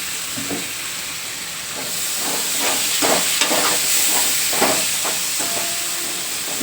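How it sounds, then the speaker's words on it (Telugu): Ripe chopped tomatoes fry in hot oil for a crab curry, giving a loud, steady hiss with repeated stirring bursts, close up and without talk. "ఇది బాగా ఇలా ఫ్రై అయిపోయిన తర్వాత మనం ముందుగానే కట్ చేసి పెట్టుకున్న బాగా పండిపోయిన టమాటాలు ఉన్నాయి ఇవి వేసేసుకోవాలి"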